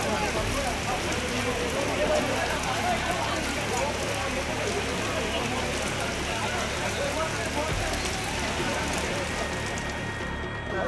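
Steady, dense rain falls without pause at polling stations during a Lok Sabha election, a continuous loud hiss and patter across the whole stretch.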